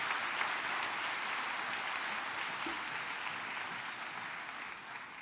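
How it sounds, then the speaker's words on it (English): At a college graduation ceremony, the audience gives sustained applause, an even, fairly faint wash of clapping heard from a distance that eases slightly toward the end. "So, full applause for Ellen"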